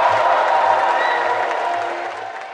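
An audience at a live-stream event claps and cheers in a dense, sustained burst that stays loud, then gradually fades toward the end.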